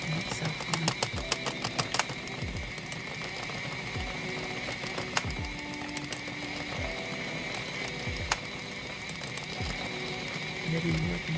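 A knitting machine runs quietly, giving rapid mechanical clicks and ratcheting taps with repeated sliding whirs as the carriage moves, faint and fairly close throughout.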